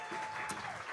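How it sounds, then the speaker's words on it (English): Audience applause for pianist Ross Margitza at a live jazz quartet show at Monks, a brief, faint, dense patter of clapping with a soft tonal hum underneath. "On piano, again, one of my favorite musicians, Ross Margitza. Let's give him a round of applause."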